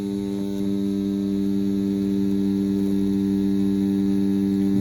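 Rotary-style tattoo machine fitted with a CNC bug pin 9-round liner needle, running steadily with a loud, even electric hum and buzz throughout, no pauses.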